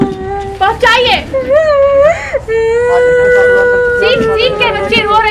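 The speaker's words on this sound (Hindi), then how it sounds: "बच्ची रो रही है" A young girl cries loudly in a hospital in Patna, her wavering wails and sobs rising and falling in pitch, close by and continuous, with only brief gaps between bursts.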